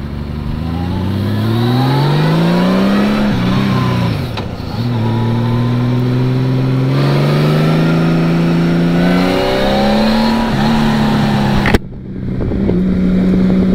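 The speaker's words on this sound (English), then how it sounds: "if you're a motorcycle person, you can tell that this is one special engine." A Honda Valkyrie motorcycle engine hums and revs steadily while riding, its pitch climbing through gear changes, loud and close, with a brief dip and a sharp cut near the end.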